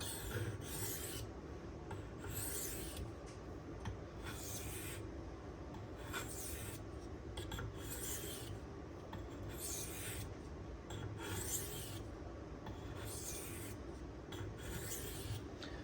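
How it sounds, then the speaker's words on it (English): A Benchmade 2551 Mini Reflex knife blade is drawn in alternating strokes across a 1000 grit Naniwa Pro sharpening stone, giving a steady rhythmic rasp of roughly one scrape per second, close and even, with no talking. "just a few alternating strokes back and forth"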